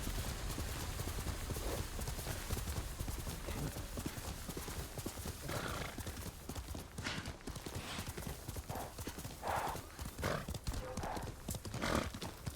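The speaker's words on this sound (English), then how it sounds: "horse." Steady clip-clop of horse hooves trotting in the video game Ghost of Tsushima Director's Cut, with occasional snorts and a brief whinny over a continuous outdoor ambience.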